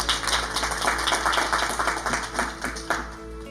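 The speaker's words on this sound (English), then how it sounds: "Please give her a round of applause." A room full of people claps for a woman stepping up to speak at a minority leaders' global engagement event in Chicago, a steady, moderately loud patter of hands lasting several seconds.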